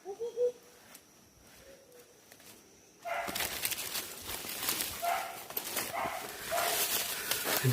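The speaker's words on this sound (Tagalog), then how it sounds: "naririnig niyo yung tahol ni Bimax." A hunting dog barks out on a mountain during a wild-animal hunt, the barks distant and repeated over steady outdoor background noise, with a few faint voices nearby.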